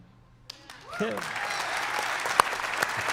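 A live event audience breaking into applause after a quiet moment, dense clapping building quickly and holding steady, with a few voices and whoops mixed in.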